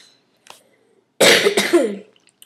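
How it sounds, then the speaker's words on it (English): A single harsh cough bursts out close by after a faint click, lasting under a second, with quiet before and after. "Sorry, I had to cough."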